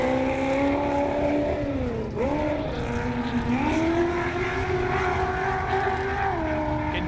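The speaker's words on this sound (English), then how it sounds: "Can definitely tell the difference when a mid-engine LS leaves the line." A mid-engine LS-powered race car pulls away from the start line on a desert short course, its engine a loud, sustained roar that dips briefly and then climbs steadily as it accelerates.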